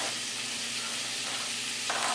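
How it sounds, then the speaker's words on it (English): Onion and frozen broccoli fry in a pan, giving a steady, close sizzle with faint stirring and no talking over it. "So now I'm going to add the onion in also."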